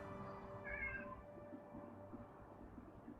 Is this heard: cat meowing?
yes